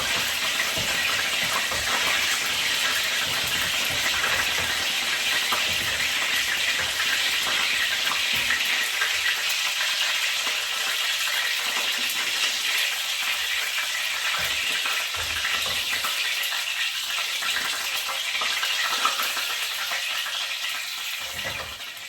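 Chicken wings frying in a frying pan, a steady loud sizzle of hot oil that holds evenly throughout with no talk.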